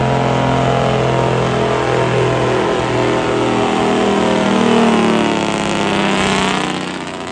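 A loaded semi truck runs its Jake brake at a Semi Stampede 2023 Jake brake competition, a loud, sustained, deep engine roar that holds steady for several seconds before easing off at the end.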